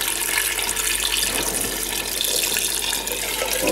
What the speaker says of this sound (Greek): Τα ρίχνουμε σε κατσαρόλα και προσθέτουμε νεράκι μέχρι να τα σκεπάσει.